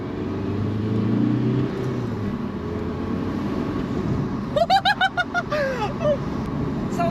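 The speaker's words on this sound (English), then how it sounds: "it sounds like a blow-off valve" A Volkswagen Golf with a cheap aftermarket intake accelerates with a steady engine drone and intake rush, and a quick run of sharp whooshing, fluttering puffs near the end, at close range.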